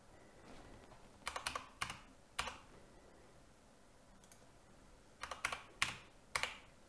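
Computer keyboard typing comes in short clusters of quick, light key clicks while a Windows PIN is set up on a newly built Lian Li TU150 Mini-ITX PC, with quiet pauses between and no voices.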